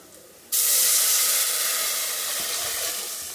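A sudden loud hissing sizzle bursts out as liquid is poured into a hot pan while making rasam, then holds steady and slowly eases off.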